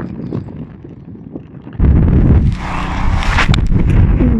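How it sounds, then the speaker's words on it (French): Loud outdoor wind gusting across a golf course, a softer rumble for the first couple of seconds, then a sudden strong, steady roar of wind buffeting the microphone. "avec le vent dans la gueule, je serai sur le parcours"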